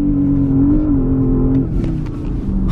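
A Porsche Panamera GTS engine revs hard under launch control, a loud, steady, close roar that holds high, dips briefly, then climbs again as it accelerates.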